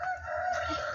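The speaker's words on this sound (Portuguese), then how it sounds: "É muita galinha, eu acho muito lindo" Chickens and a rooster on a farmyard, a short, fairly faint crowing or clucking call standing alone without voices.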